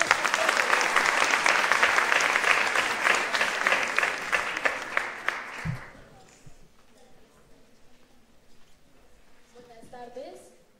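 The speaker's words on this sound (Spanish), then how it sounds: "Un aplauso" Dense applause from an audience at a public event with children, loud and sustained for several seconds before it quickly dies away, followed by quieter room sounds and a voice starting to speak.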